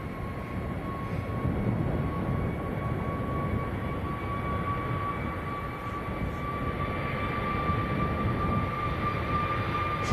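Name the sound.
EasyJet airliner taking off at Manchester Airport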